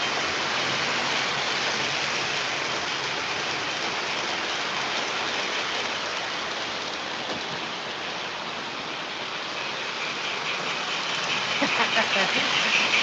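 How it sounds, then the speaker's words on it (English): O gauge model trains running on a layout give a steady, dense rushing rumble that holds evenly throughout and swells slightly near the end, with no voices over it. "I'm running the trains now."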